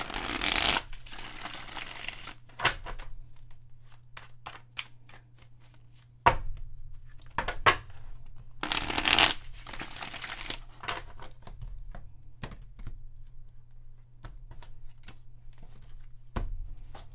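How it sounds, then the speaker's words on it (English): Tarot cards being shuffled slowly by hand, with bursts of papery riffling and flicking separated by quieter pauses, close and fairly soft over a steady low hum. "Because that was one heck of a slow-mo shuffle."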